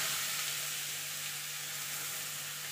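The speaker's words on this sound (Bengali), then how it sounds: "এবার ফোড়নটা একটুখানি ভাজা ভাজা করে নেব।" Panch phoron spices with grated beetroot and carrot fry in hot oil in a pan, making a bright, even sizzle that holds steady, close and fairly loud, with no talk.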